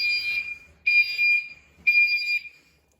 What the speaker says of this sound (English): Get the Gentex Commander 3 on